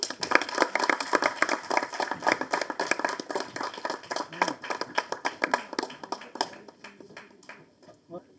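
Audience clapping at a Tamil film audio launch event, a burst of uneven handclaps that thins out toward the end.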